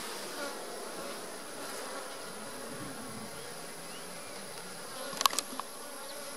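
Honey bees buzz steadily around an open beehive during an inspection, a soft continuous drone throughout, with a few faint clicks near the end.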